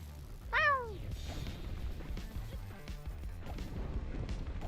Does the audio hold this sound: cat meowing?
yes